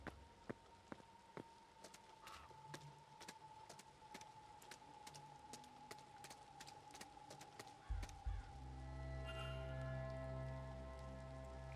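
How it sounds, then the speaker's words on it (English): Steady rain patters on surfaces throughout a video game scene at a walled garden manor residence, with scattered sharp drips and clicks before a low, heavier rumble swells near the end. "it's still raining"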